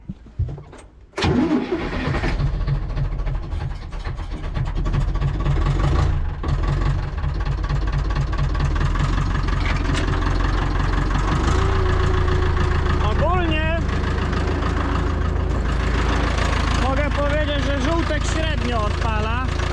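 A yellow Ursus tractor cranks and fires up on a snowy day, a sharp start followed by a steady, close engine idle that runs on throughout, with people talking over it.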